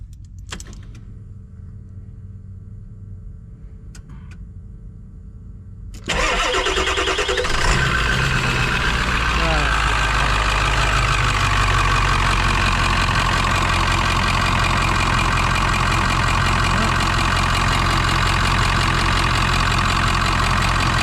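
A car engine with motor problems cranks and then catches, settling into a loud, steady idle that runs on close by with no talk.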